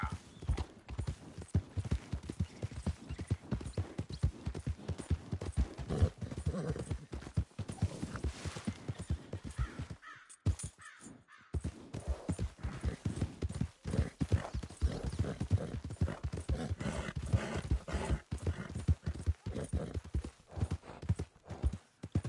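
Horse hooves clip-clop steadily through the Red Dead Redemption 2 game world, a continuous close rhythm with brief pauses, joined by an occasional whinny and some faint talk.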